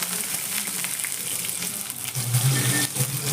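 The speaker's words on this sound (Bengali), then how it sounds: "গ্যাসের ফ্লেমটা অফ করে দিয়ে আমি দিয়ে দিচ্ছি কারি পাতা" Curry leaves crackle and sizzle in hot oil with dried chillies and a pinch of asafoetida, a steady broadband fry that swells louder partway through, close and with no voices.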